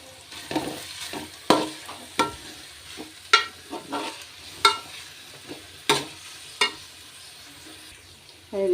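Ginger, green chillies and garlic go into a pan with softened tomatoes for chicken curry, frying with a low sizzle punctuated by repeated sharp scrapes and taps of a spoon stirring.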